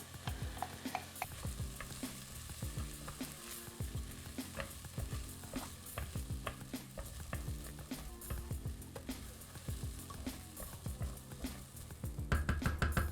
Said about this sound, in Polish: dodaję ryż i smażę go tak naprawdę chwileczkę, myślę, że około minuty.